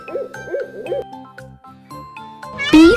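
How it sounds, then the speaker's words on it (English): Repeated owl hoots, clear and fairly loud, pulse in an even rhythm over a children's alphabet-song music backing, ending with a sliding, swelling hoot. "O for owl, o"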